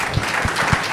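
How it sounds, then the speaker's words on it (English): Audience applause at a live podcast alumni panel, a dense, steady burst of clapping heard alone for about a second. "please clap it up for Dennis too"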